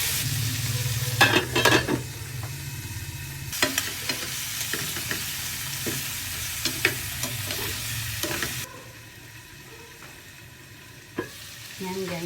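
Leftover barbecued chicken being sautéed in a pan, with a steady sizzle and sharp scraping stir strokes near the start, the frying noise dropping lower and quieter toward the end with an occasional clink.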